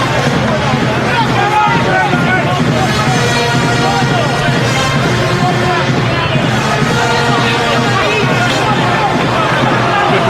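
A ringside boxing crowd roars with every punch between Clinton Woods and Julio Cesar Gonzalez as a band plays, a dense, loud, unbroken wall of cheering under steady commentary.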